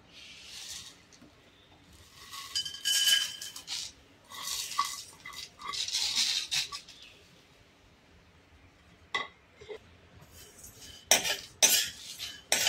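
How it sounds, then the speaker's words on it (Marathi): Whole spices dry roasting in a dry pan, among them bay leaf, coriander seeds, sesame, cinnamon, cumin, black pepper and cloves, for Kolhapuri chicken sukka: intermittent dry rattling and scraping bursts with quiet gaps, no talk. "हे सर्व खडे मसाले आधी आपल्याला भाजून घ्यायचे आहेत"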